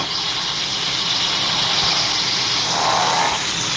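A BMW car engine running in a driving video game, a steady droning hum with a broad hiss, constant and fairly loud without variation.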